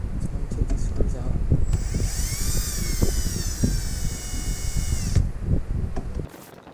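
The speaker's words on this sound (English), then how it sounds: "So I'm gonna grab a drill." A power drill backs screws out of a DIY boombox cabinet, its whining motor rising loudly for a few seconds in the middle and then cutting off, with handling noise and a voice around it.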